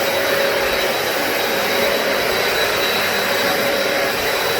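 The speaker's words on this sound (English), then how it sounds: "Now, not only when you vacuum a carpet one way, you have to go the other way." A vacuum cleaner runs steadily over a soot-covered carpet after a house fire, producing a loud, unbroken roar with no pauses and no voices.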